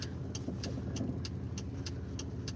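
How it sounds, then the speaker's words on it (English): A car engine idles with a steady low rumble, and the car may have an engine or transmission fault. A regular ticking or clicking repeats about every third of a second above the engine noise. "hear my car, it be loud"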